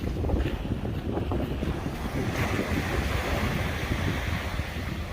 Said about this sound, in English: The amazing, stunning Atlantic Ocean.